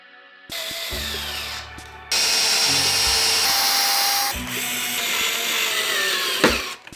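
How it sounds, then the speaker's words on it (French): Power drill driving screws into a wooden pallet shelf during assembly of its back panel, with several loud, close whirring bursts that rise and stop between screws, separated by brief pauses and handling clatter. "Je n'ai plus qu'à poser le fond et à le visser à la structure."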